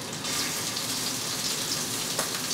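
A steady, hissing sizzle of scallops searing in a hot pan, continuous and fairly close, with no talking.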